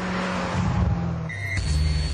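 Maserati Gran Sport driven hard on a test circuit, a loud engine roar with a quick gear change partway through, brief and close.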